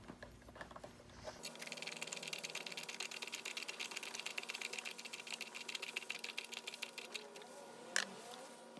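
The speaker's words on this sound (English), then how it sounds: "we're gonna start with the Kobalt and we're just gonna drive the screws in there" A Kobalt 6-in-1 hand screwdriver drives screws into solid wood, making a fast, dense run of close mechanical clicking and grinding that continues steadily for several seconds, ending with a sharper knock.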